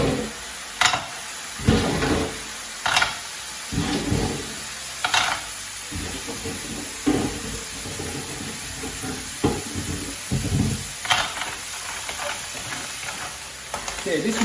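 Big clams go into a hot pan of prepared mixture and sizzle steadily, with repeated scraping and stirring knocks from a utensil punctuating the frying noise up close.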